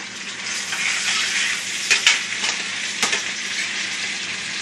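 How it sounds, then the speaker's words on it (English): Celery is stirred in a hot pot for chicken and dumplings, giving a steady close sizzle with a few scraping clicks of the spoon against the pot. "And I'm going to stir it up"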